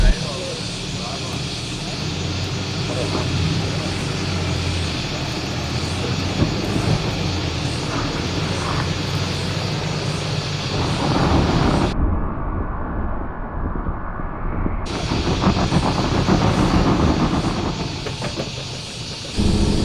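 A 4WD vehicle creeps slowly up an off-road bush track near Coffs Harbour, its engine giving a continuous loud rumbling drone with wind-like hiss, and someone talks throughout.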